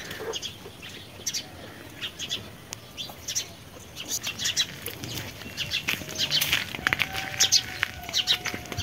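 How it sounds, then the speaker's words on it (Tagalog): Several birds chirping and tweeting in quick bursts, growing busier toward the end, with a faint steady background hum. "Iingay yung mga ibon."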